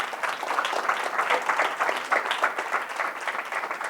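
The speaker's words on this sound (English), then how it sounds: "Clap it up for that, sister." An audience claps for a lecturer's answer to a question about religion, steady dense applause at moderate distance holding evenly for several seconds.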